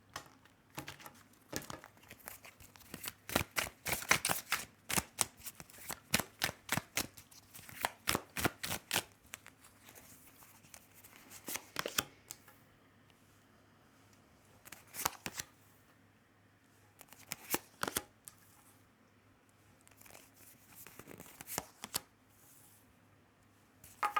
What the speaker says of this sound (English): I was dealing your cards